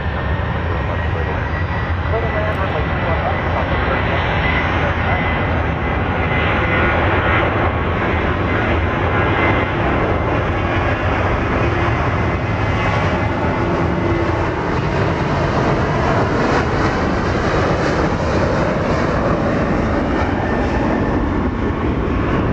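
A Southwest Airlines jet roars steadily during takeoff at Dallas Love Field, a loud, continuous broadband engine rumble that stays strong throughout, with voices faintly present beneath it.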